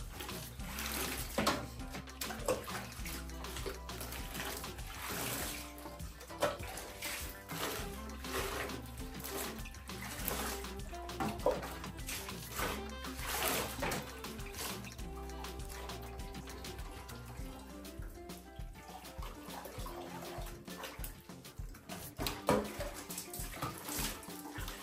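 Warm water runs steadily from a tap while a wig is washed, giving a loud, continuous splashing wash with shifting gurgles and no speech.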